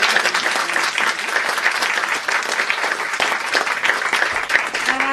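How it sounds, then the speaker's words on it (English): An audience at a book talk for Paris by the Book gives the author a round of applause, close and sustained dense clapping at an even level throughout. "Please give Liam a round of applause."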